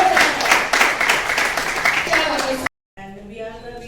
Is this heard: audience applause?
yes